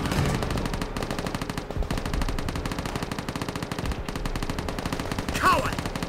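Dense battle gunfire from Call of Duty: World at War, with rapid machine-gun bursts and scattered shots rattling continuously at moderate loudness, brief shouted voices mixed in.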